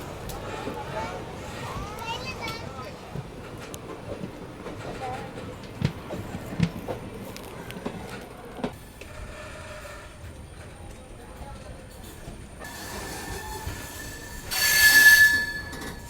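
Train 16127 Guruvayur Express, running from Chennai Egmore, rolls alongside on a parallel track with rumbling wheels and scattered clunks. Metallic squeals build near the end into a loud, sharp wheel screech.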